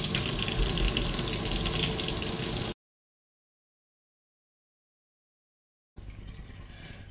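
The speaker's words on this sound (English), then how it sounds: "Now we're going to get rid of all the salt, everything which is there. Wash it in a cold water." Cold tap water runs hard over cured beef being rinsed of salt for pastrami, a loud steady splash that cuts off abruptly, leaving several seconds of silence before a quieter flow resumes.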